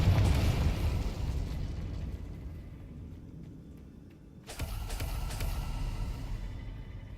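A Confringo spell explosion in Hogwarts Legacy: a loud, rumbling blast that fades into a low roar, then a second sharp burst cuts in and trails off into sustained rumble.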